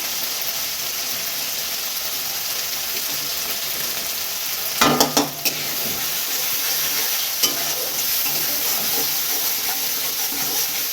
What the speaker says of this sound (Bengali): ভালো করে মশলাটাকে সুন্দর করে কষিয়ে নিতে হবে